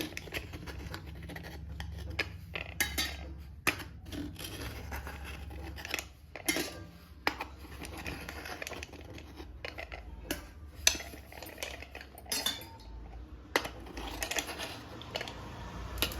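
Idlis being lifted off steamer plates with a flat spoon, giving a string of scattered metallic scrapes, clinks and taps at close range over a low background hum, with no talking.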